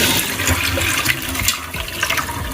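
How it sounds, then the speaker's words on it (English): Water from boiled saltfish is drained off in a brief, continuous splashing pour that runs loud and close from start to finish. "I'm just gonna be straining off the saltfish."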